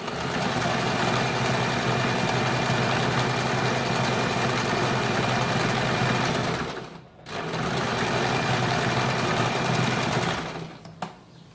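A sewing machine runs steadily and close up while double-stitching a kurti seam, a continuous whirring drone that breaks off briefly partway through, resumes, then stops near the end.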